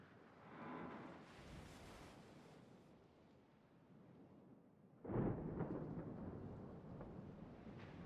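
A video game thunderstorm rolls in with a low rumble of thunder, then a sharper, louder crack and long roll that trails off with wind-like wash; no one speaks.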